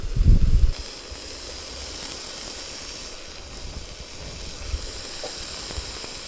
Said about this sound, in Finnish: Sienet paistumaan sinne.